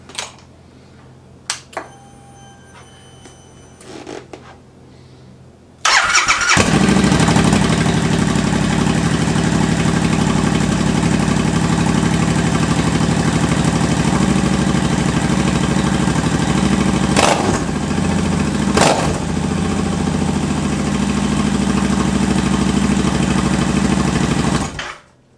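A Royal Enfield Continental GT 650 motorcycle fires up from cold on a freezing day, a brief starter whir giving way to a loud, steady idle that rumbles close by for about twenty seconds before cutting off.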